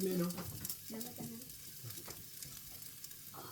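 Garlic and shallots stir-fry in a pan for pad thai, crackling and sizzling close up with scraping stirs, while a voice speaks briefly at the start.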